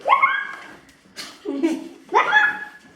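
A dog whimpers and yips in short high whines, three close bursts with a brief noisy rustle between them, with no talk over it.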